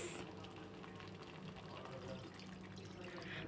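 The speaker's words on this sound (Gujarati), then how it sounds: "ગ્રેવીની અંદર હું અડધા કપ જેટલું પાણી એડ કરીશ" Water splashes and trickles as about half a cup is poured into a tomato-onion gravy for restaurant-style kaju paneer masala, a soft, steady liquid rush with faint kitchen hiss.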